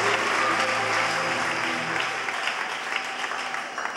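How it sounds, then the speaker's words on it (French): Congregation applauding in a church service, steady broad clapping from many people with a low musical tone fading out early, sustained throughout at even volume. "Merci de lui donner une bonne main d'acclamation."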